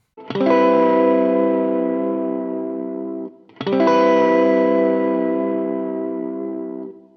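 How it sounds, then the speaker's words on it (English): Two strummed guitar chords through a Line 6 POD Go with wow and flutter modulation, each left to ring and slowly decay, with a wavering, warbling pitch wobble and a touch of distortion. "introduce some very drastic modulation, and that will happen once I increase the wow and flutter control"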